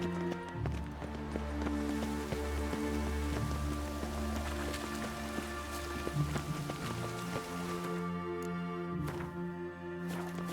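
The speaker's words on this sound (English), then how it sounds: "Ah, let it rain." Rain falling in The Witcher 3 video game: a steady wash of rain and raindrop patter under low musical drones and horse hooves, with a few sharp ticks and thuds toward the end.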